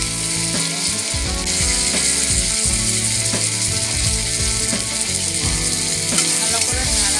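Tomatoes sizzling in butter in a hot pan for butter paneer, a dense continuous loud sizzle mixed with rapid clicking, rattling mechanical noise throughout, no talking.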